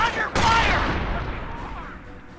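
Gunfire in the Company of Heroes video game: a sharp, loud burst of shots that trails off into a rumbling decay, heard with battle noise and a voice in the background.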